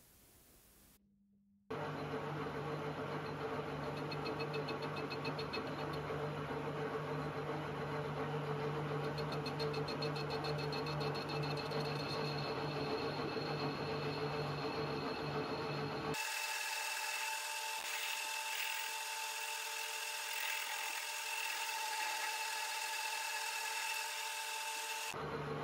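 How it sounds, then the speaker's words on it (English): A lathe spins a socket held in its chuck, producing a loud, steady machine hum and rough cutting rasp close by. The tone shifts abruptly partway through, then the run continues with no voices. "we just turn the piece in the chuck and check for wobbling that it is not too bad"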